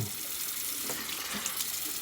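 Warm water runs from a tap for shaving, a steady, even hiss of flowing water with faint splashes, heard alone at a moderate distance.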